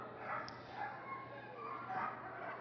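Police dog puppies from a police dog display team at Crufts yip and bark in quick bursts over a busy indoor arena hum, with a voice talking underneath.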